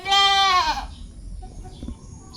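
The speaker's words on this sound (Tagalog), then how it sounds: "ang kambing sige na siya iyak" A goat bleats once, close and loud, in a wavering, quavering cry that fades into quiet farmyard background noise.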